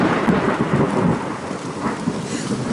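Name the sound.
heavy rain with thunder at a bushcraft camp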